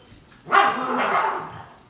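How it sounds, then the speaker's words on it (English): A dog barks and whimpers once in a short burst, fairly close and loud, at an outdoor Fourth of July barbecue, with no talk over it. "That's your dog."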